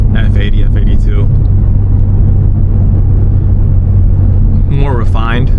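BMW M3 Competition with xDrive driving on a city street, a loud constant low engine and road rumble filling the cabin, with someone talking over it at the start and again near the end.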